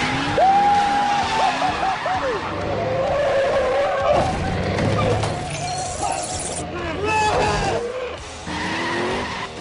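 A speeding truck skids with squealing tires and swerves in an action TV scene. Loud, wavering tire screeches and engine roar keep on throughout, mixed with crashing noise, and voices talk over them.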